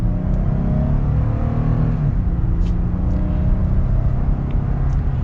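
Jeep Gladiator Mojave with a V6 and 8-speed automatic accelerating, a steady loud engine roar heard from inside the cabin, building gradually with no talking.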